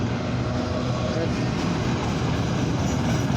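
A freight train passes at night, a loud, continuous rumble and roar that stays steady and close throughout.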